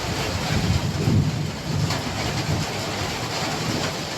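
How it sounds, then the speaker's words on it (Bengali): Heavy evening downpour with thunder: a dense, steady roar of rain runs throughout, with deep low rumbles swelling and fading beneath it, loud and close. "সন্ধ্যেবেলা মুসুর ধারা বৃষ্টি আর প্রচণ্ড জোরে জোরে বিদ্যুৎ চমকাচ্ছে"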